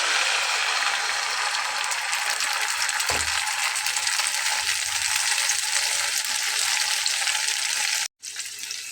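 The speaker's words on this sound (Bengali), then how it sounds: "ফ্রাই প্যানটা একটু ভেজা ছিল, যার জন্য তেলটা ফুটছে" Batter fries in hot oil in a wet frying pan, a loud continuous sizzle and sputter with a soft thud partway through and a brief cutoff near the end.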